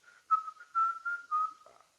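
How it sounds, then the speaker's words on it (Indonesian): A person whistles a short, steady tune of four or five sustained notes, fairly close and clear, with no talking. "bersiul di rumah pada waktu malam hari, ya bersiul"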